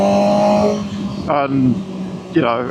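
A Triumph 765RS motorcycle engine pulls hard at full throttle, a loud near rising roar with gear-like pitch sweeps, while someone talks over it.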